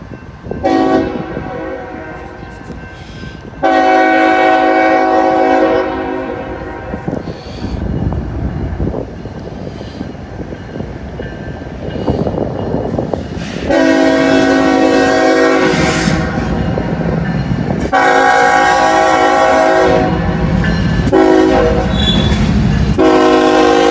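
A northbound Conrail mixed manifest freight train passes close by, sounding loud, repeated multi-tone horn blasts over heavy rumbling and clattering of the rail cars.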